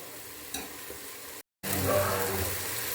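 Onion frying in a pan with dry spices such as cumin powder, turmeric and a homemade chili masala stirred in: a steady, close sizzle with scraping stirs, broken by a brief cut to silence before the sizzling returns louder.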